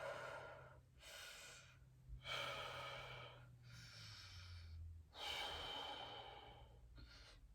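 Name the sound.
slow deep breathing during a stretch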